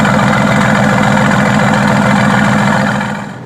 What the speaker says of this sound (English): you can turn on the exhaust. The exhaust, you might be wondering? Yes, the exhaust. Here's how it sounds merely at idle.